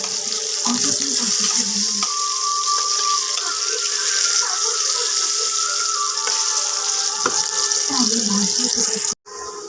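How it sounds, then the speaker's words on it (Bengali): Diced potatoes fry in a pan with a steady, hissing sizzle that runs almost unbroken. A voice talks over it, and the sound cuts off abruptly near the end. "আলুগুলো বন্ধুরা ডুমো ডুমো করে কুটে নিয়েছি নিয়ে এবার ভাজতে দিয়েছি ভেজে নেবো আলুগুলো একটু"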